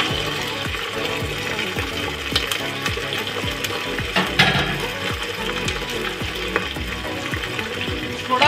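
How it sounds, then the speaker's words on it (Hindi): Minced meat goes into a pan of browned onions and fries with a loud, continuous sizzle, broken by frequent scraping and clinking from stirring close to the microphone. "हमारा प्याज ब्राउन हो गया है, अब हम इसमें कीमा डाल देंगे।"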